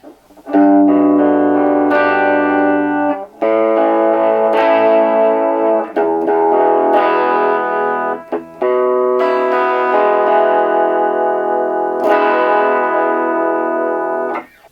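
A 2001 Epiphone Slasher electric guitar played through a high-gain pickup at about a third volume: chords and riffs still gritty and distorted but a bit cleaner, ringing out with short pauses between phrases.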